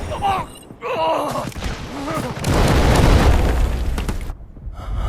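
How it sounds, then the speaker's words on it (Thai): A heavy explosion in the Delta Force Mobile combat shooter lands as a loud, rumbling boom lasting a couple of seconds, after someone speaks over the game noise, then fades into lingering rumble. "ระเบิดนะ"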